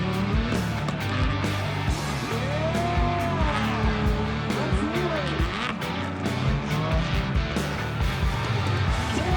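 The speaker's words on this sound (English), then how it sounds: "those cars are going real fast and real left" Rally cars at the ARA Overmountain Rally in Tennessee roar by at speed, engines rising and falling with shifting pitch and some tire noise, loud and continuous, with voices talking beneath.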